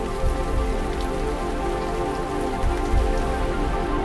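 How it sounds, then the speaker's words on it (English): Spring showers rain sound from a Sleep Sheep baby soother: a steady, even patter of rain on a surface, continuous and moderately loud with no voices. "Choose from spring showers,"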